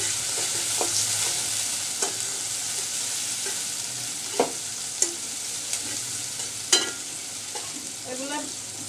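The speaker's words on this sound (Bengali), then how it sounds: "পেঁয়াজ আর রসুনের সাথে আমি চিংড়ি শুটকিগুলোকে একটু ভেজে নিব।" Dried shrimp frying with onion and garlic in oil, a steady close sizzle with intermittent scrapes and clinks of stirring, no talking.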